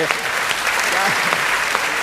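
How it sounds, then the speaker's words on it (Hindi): Dense, close applause fills a Hindi comedy poetry recital at a kavi sammelan, continuous clapping from the crowd for a couple of seconds with voices faintly mixed in. "भाई तालियां कम थी इस पर तो।"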